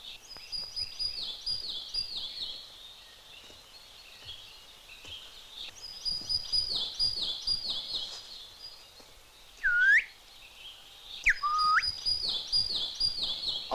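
Repeated high, whistled phrases of a great tit singing come through in a 1966 Romanian historical drama film, fairly clear over quiet ambience, with a couple of sharper whistled notes near the end.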